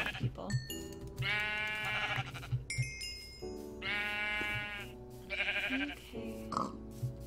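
Sheep in the Minecraft game Tekkit bleat repeatedly, giving several loud, clear, drawn-out calls at close range over a low steady game background, with no talking.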